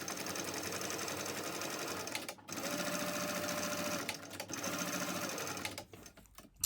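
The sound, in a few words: sewing machine top stitching a mini backpack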